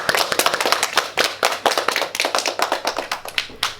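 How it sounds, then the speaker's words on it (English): A small audience of classmates claps for a primary school student's presentation on biofuels: steady, dense hand clapping that runs close and fairly loud for several seconds, with no voices over it. "Let's give him a clap."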